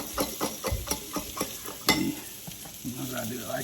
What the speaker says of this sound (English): We got veggies sauteing.